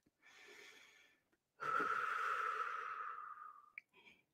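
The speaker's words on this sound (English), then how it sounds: "Breathing in through the nose and taking long exhales through the mouth" A quiet breath drawn in through the nose, then a long, steady exhale through the mouth that tapers off, ending with a small vocal catch and a brief short sound.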